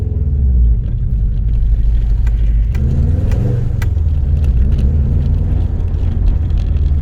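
A classic Subaru Impreza Turbo AWD on the move, its engine and exhaust giving a loud, steady low rumble heard from inside the car, briefly rising as it revs, with no one speaking.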